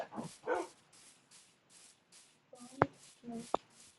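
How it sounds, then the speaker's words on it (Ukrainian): A Minecraft dog barking during a hardcore survival game, two short barks near the end, fairly close, with soft shuffling and a quiet low background before them. "Ей, Неліна, я тобі песика знайшов."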